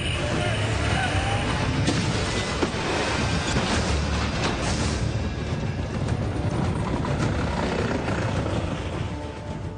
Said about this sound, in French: Cette fois-ci, il s'agit de forcer un barrage composé de 2 véhicules.